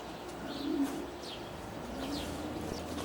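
Racing pigeons in a loft in Carlisle give soft, low coos mixed with a few brief higher chirps, fairly quiet and steady against light background noise, with no talking.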